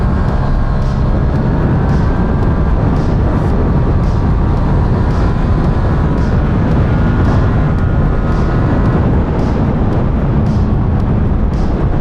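A 2017 Yamaha MT-07 motorcycle engine roars loud and steady under hard acceleration toward the rev limiter, with heavy wind rush over the ride and no talk.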